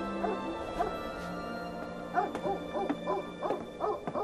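A dog named Rawka gives soft hoot-like whines and whimpers with short yips, several brief calls spread over a few seconds at close range.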